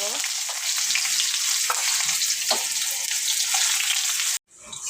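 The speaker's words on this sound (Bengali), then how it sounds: "এরপর আমি কড়াইতে পেঁয়াজ দিয়ে দেবো।" Onions frying in hot oil in a kadai, a loud continuous sizzle with faint stirring scrapes that cuts off abruptly near the end.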